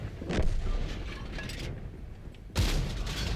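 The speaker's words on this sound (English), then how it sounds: "Let's shoot an IS-7." A tank cannon fires at an IS-7 in a tank battle game: two heavy booms about two seconds apart, each with a long rumbling tail, loud and close.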